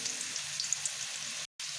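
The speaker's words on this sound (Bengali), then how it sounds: "এইভাবে লাল লাল করে আলুগুলোকে ভেজে নিলাম" Potatoes fry in hot oil, giving a steady, close sizzle with a faint crackle and a brief dropout near the end, with no voices.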